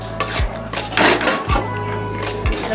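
Pineapple pickle with lemon juice and fried spices is stirred in a pot, with a metal spoon clinking and scraping against the pot in a few distinct strokes over a steady low background hum.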